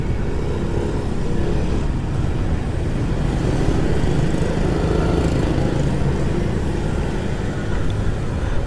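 A car passes along Jalan Taman Pancing, a busy street in Denpasar, Bali, in a steady broad roar of nearby road traffic that holds constant throughout with no breaks.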